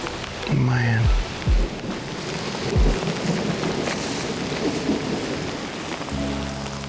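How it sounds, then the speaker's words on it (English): Steady rain pours down during a thunderstorm on a deer hunt in Missouri, with a loud roar of rain and rumbles of thunder throughout, plus brief voice-like sounds at the start and end. "Rain hasn't stopped coming down. We're getting a lot of lightning and thunder."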